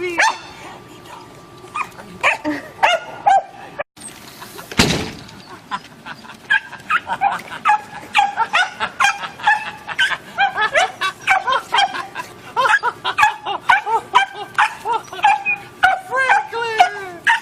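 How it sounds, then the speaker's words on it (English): Excited dachshund puppies bark, yip and whimper almost continuously at close range during a homecoming greeting, with a loud thump partway through and people talking over the commotion. "We got happy dogs!"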